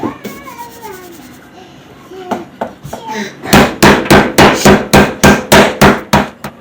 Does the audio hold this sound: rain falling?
no